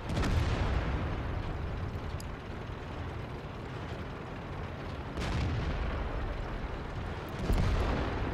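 Heavy tank cannon fire in World of Tanks, with deep booming blasts around the start, middle and end over a constant low rumble of battle and engines.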